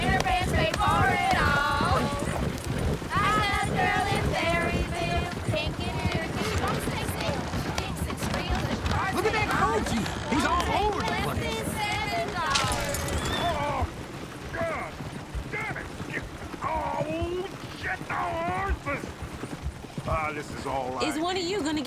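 Horse hooves clip-clop steadily in the Red Dead Redemption 2 game world, a continuous rhythmic trot mixed with jangling tack, running alongside a singing voice and other game sounds.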